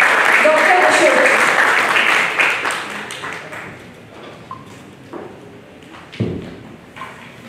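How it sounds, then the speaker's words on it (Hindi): A crowd at a student parliament event in India claps loudly and steadily, then the applause fades away over a few seconds, leaving a quieter room with a thud. "तालियों की गड़गड़ाहट के साथ स्वागत करते हैं"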